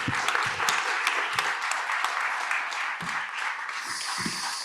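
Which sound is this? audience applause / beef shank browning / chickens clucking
audience applause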